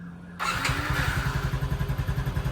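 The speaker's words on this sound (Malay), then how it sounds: "Exhaust, bunyi exhaust CV2." A CV2 motorcycle engine starts abruptly and settles into a steady, loud idle with a rhythmic exhaust pulse, close by.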